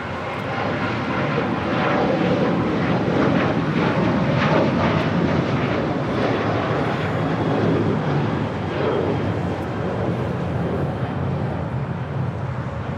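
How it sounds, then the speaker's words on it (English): A United Airlines Boeing 737-800 departs Los Angeles International Airport, its jet engines roaring loud and broadband throughout, a steady powerful rush with no voices. "United Airlines in the Star Alliance livery. Flight 490 heading to Las Vegas and a 737-800."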